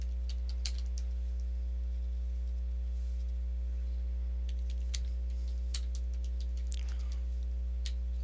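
Sparse, irregular key clicks come from a computer keyboard as commands are typed for a RIP router lab, faint and scattered over a loud, steady electrical hum.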